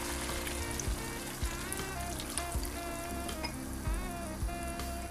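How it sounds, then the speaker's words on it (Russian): Liquid poured over vegetables in a hot pan, a steady loud sizzle and bubbling roar with faint pouring and occasional stirring knocks, no voices. "Хорошенько все размешиваем и заливаем овощи."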